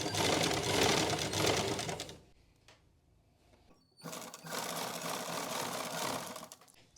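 A sewing machine stitches cloth in two close, loud bursts of fast, steady whirring, with a short quiet pause between them.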